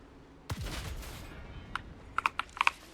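In the Trailmakers building game, faint weapon shots strike tank armor: one soft low thump, then a series of sharp, quick metallic ticks and clacks in uneven bursts over quiet background.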